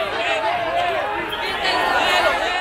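Angry mobs at Venezuela's border during violent clashes over aid fill the air with a dense, continuous roar of shouting, cursing and cheering voices, loud and close throughout.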